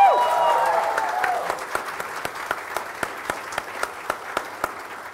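Audience applause at a live on-stage conversation event, dense and loud at first, then thinning out and fading into a few scattered, isolated claps near the end.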